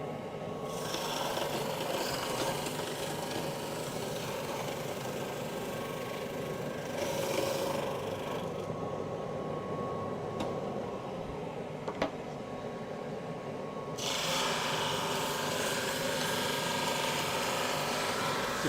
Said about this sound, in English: I'm going to sand the paper off. even though it's been glued on.